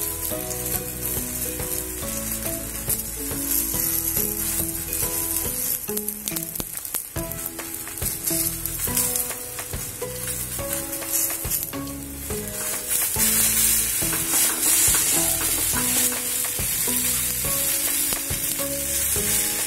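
A tomato omelette fries in oil in a pan, a steady close sizzle and crackle running throughout with music playing over it.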